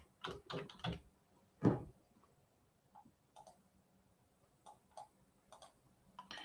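Keystrokes entering credit card details on a computer while ordering a new Tesla online: a few loud clicks early on, then sparse, quieter taps spaced out over the remaining seconds.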